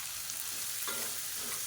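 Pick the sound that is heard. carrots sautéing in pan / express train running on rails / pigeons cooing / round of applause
carrots sautéing in pan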